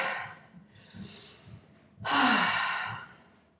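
A person standing on their toes during a body exercise lets their breathing settle, with a few soft breaths and then one long, loud close exhale like a sigh.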